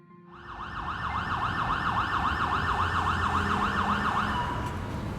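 An ambulance siren wails in a steady, repeating up-and-down pattern, loud and close over low street rumble, sounding alone for about five seconds as an effect in a crime audio drama.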